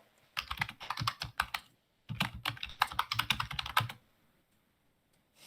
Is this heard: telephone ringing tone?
no